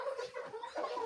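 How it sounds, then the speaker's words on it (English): Chickens in a coop clucking, a brief soft burst of several overlapping clucks, moderately close and with no talk over them. "we are coming to the chicken coop now"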